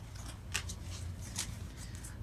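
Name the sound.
tarot cards being shuffled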